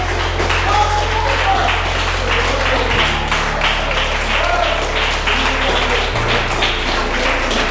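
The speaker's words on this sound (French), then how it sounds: "Je vais lui demander de se lever pour qu'on l'applaudisse." An audience at a university debate club in a hall claps with steady, dense applause. A loud voice talks over the clapping throughout.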